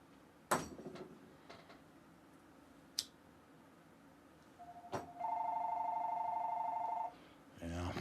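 A telephone rings loudly and steadily for about two seconds after a few scattered clicks and taps in a quiet room.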